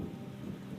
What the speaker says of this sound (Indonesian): Tapi semua berubah ketika hujan turun.